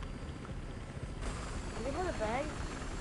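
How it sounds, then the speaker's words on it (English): A helicopter in the video game Battlefield Hardline gives a steady, broad rotor-and-engine wash that swells slightly partway through, with a voice talking briefly over it. "Alright, I got a helicopter."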